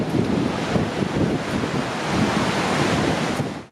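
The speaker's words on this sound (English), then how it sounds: "with the Micromuff, although the wind noise is still audible, you can at least hear the sound of the waves crashing on the shore" Ocean waves crash on a shore in strong wind, recorded on a compact camera microphone fitted with a Micromuff windscreen. The surf surges loudly and continuously while wind rumble buffets the microphone throughout.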